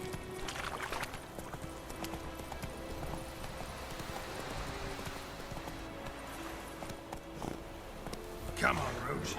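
Geralt's horse Roach galloping in the game The Witcher 3, fairly faint rhythmic hoofbeats clip-clopping steadily throughout, with a quiet bed of music and ambience behind.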